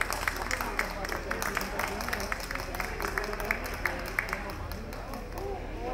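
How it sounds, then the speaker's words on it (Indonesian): Audience applause greets Gus Suud at a disaster risk reduction forum in East Java, a brisk run of scattered claps with a voice speaking over it through much of the stretch. "tepuk tangan untuk Gus Suud."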